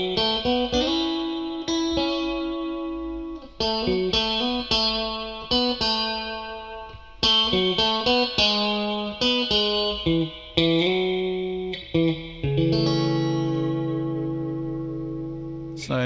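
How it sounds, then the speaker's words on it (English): An electric guitar plays chords and short phrases through a Fender Automatic SE amplifier, each note trailing into a splashy, metallic analog spring reverb; no voices. "The reverb, as I said, is a spring reverb, analog."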